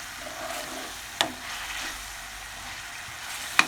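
Coriander, chili and turmeric powders being stirred into a pan of tinda and chicken masala, a soft steady sizzle with two sharp spoon clinks against the pan, close and quiet, no talking.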